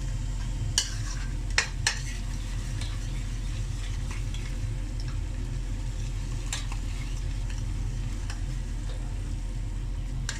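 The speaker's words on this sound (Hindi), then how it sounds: "गार्लिक जो है वो 3 से 4 मिनट मैंने फ्राई किया है" Garlic frying in a karahi over a medium-high flame for Lahori mutton karahi, a faint, even sizzle under a low hum, with a few scattered clicks of a spoon against the pan.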